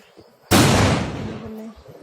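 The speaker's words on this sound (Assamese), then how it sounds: "ফটকা ফুটোৱা" A single firecracker bursts during Diwali celebrations, one sharp loud bang followed by a short crackling decay, with voices and festive background noise around it.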